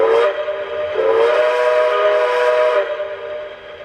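A brass HO-scale-style model of a Lackawanna 4-8-4 Pocono steam locomotive sounds its whistle in two long, steady toots, the second held for a couple of seconds, with a soft hiss underneath.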